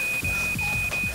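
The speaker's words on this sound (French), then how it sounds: "On s'habitue rapidement au son d'alarme constant." A smoke detector alarm rings with a steady high-pitched electronic tone, loud and unbroken, with low rumbling thumps underneath.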